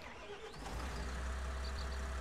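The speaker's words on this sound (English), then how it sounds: "Very cool sounding engine." A New Holland Forage Cruiser forage harvester engine in Farming Simulator 19 runs with a steady, loud low rumble and a mechanical drone that holds throughout the short stretch.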